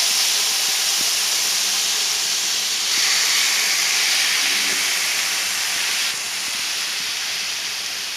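A steak hitting a hot pan gives a loud, steady hiss of searing and sizzling throughout, with a brief swell in intensity midway and no voices over it.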